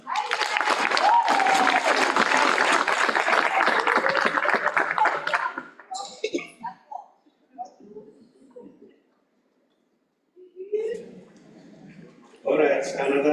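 Graduation audience clapping in a hall, dense steady applause for about six seconds with a voice over it, then tapering into scattered claps and murmurs before a short burst returns.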